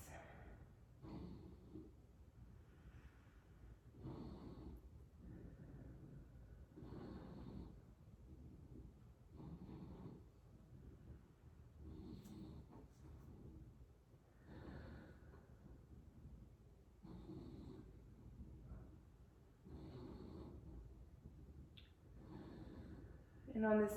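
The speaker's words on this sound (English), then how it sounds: "And just take a few breaths." Slow, regular deep breaths during a yoga session for parents and children, each inhale and exhale audible and close, repeating steadily over about twenty seconds.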